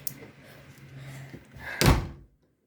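A door slammed shut in a home, a single heavy broadband thud near the end, following quieter movement and muffled voice sounds, then silence.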